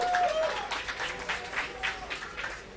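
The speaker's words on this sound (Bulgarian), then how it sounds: "Вашите аплодисменти за Splendor!" Applause from the crowd at an esports event, a StarCraft II tournament match, fairly faint and diffuse, steady clapping with a tonal hum in the background.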